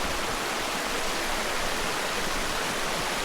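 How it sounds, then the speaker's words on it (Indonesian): Spring water flows down from the Selerang cliff at Baturaden, a steady, dense rushing hiss of falling water that fills the whole scene, close and constant, with no voices. "Ini air sumber dari tebing selerang tadi yang di bawah."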